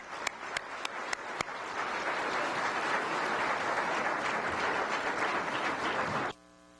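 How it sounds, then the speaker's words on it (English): Conference audience applauding after the morning panels at a gun violence policy event, a dense, steady wash of clapping opening with a few sharp separate claps and cutting off abruptly near the end. "another round of applause for both of our morning panels"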